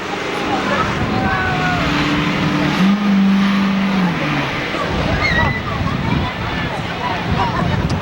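School buses rumble and rev around the track in a demolition derby at Seekonk Speedway, a continuous engine roar with crowd-level noise underneath, while an announcer talks over it.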